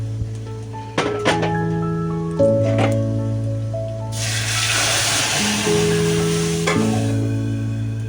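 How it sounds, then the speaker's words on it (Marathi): Amaranth leaf garagat mixture poured into hot Kolhapuri-style tempering, bursting into a loud, close sizzle midway that fades after a few seconds, over steady background music. "तर आता हे आपलं गरगट आता आपण त्या फोडणीमध्ये ओतूया. मस्त गरम असं पटकन फोडणी बसते."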